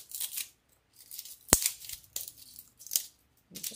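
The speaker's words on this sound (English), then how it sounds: "You could get your scissors in there and chop it down a little smaller" Scissors snip through artificial magnolia flower stems for a wreath, giving several short crisp cuts and rustles close by, with one sharp metallic click midway and quiet gaps between.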